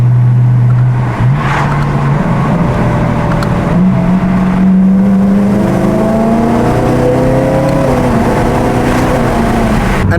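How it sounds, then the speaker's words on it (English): A supercharged E90 BMW M3 engine revs steadily and loudly, its rising drone carrying a supercharger whine as the revs climb, with no talk. "while I do love these supercharger whining sounds"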